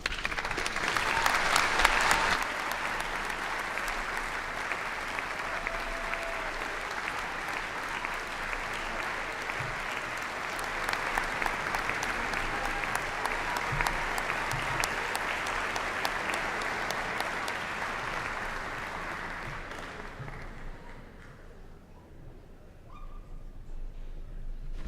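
Warm, sustained applause from a commencement crowd at a SUNY Oswego School of Business graduation fills the hall for about twenty seconds, then thins and fades toward the end.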